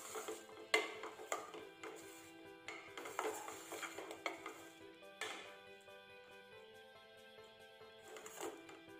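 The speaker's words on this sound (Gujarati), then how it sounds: "આને હલાવી લઈશું।" A utensil scraping and clinking against a pot while stirring kotha ni gatagat mixture, irregular metallic taps and scrapes over a soft background tone, fairly quiet and close.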